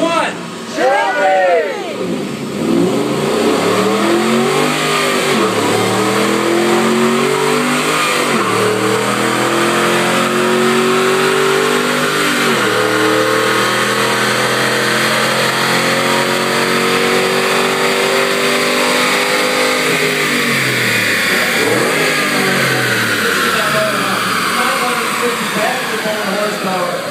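A 2013 Ford Mustang Shelby GT500 on a dyno revs loudly and continuously, its engine note rising and falling in long sweeps of acceleration up close.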